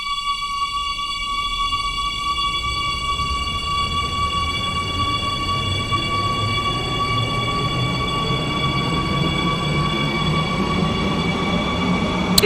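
Roblox SCR metro train R023 running steadily in cab view, a continuous rumble of wheels and motor with high sustained electrical whine tones, loud and close throughout, no talk.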